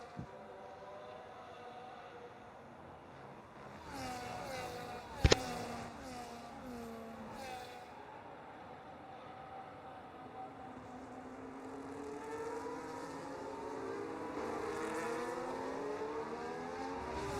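Race car engines in a sim racing game at the Qatar circuit, an onboard whine rising and falling through gear changes, steady and moderately loud with a brief sharp click.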